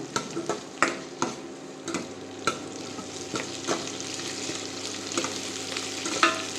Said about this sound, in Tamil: கருவேப்பிலை பூண்டு இப்போ இதை சேர்த்துக்க போகிறோம் நல்லா வதக்கி விடுங்க